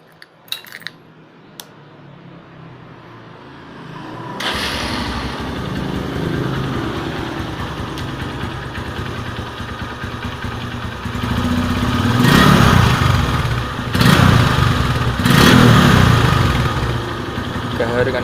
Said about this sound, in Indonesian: Ya, itu saja perbedaan knalpot ori dan tidak ori Tiger Revo.